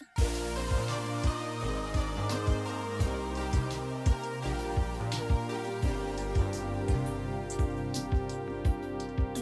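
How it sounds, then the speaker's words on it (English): Layered lead synth melodies played on a DX7, the same line doubled in different octaves, bright and steady over a full pop arrangement with a thumping beat and bass. "these lead synthesizers that are playing the same melody as the bright synth, and they are also recorded with a DX7 synthesizer"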